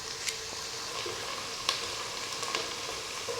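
Onions frying in a pan for vegetable pulao, browned only lightly, giving a soft continuous sizzle with a few faint clicks and spatters, quiet and close, with no talking.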